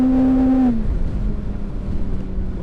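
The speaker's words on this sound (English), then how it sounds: "It feels odd to rev a bike out that much." A 2013 Kawasaki Ninja ZX6R 636 motorcycle engine holds a high revving whine, then drops away abruptly into loud rushing wind noise.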